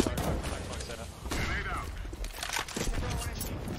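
Galil rifle fire in a Counter-Strike pro match, rapid bursts of gunshots layered with other in-game gunfire and effects, dense and continuous under excited commentary.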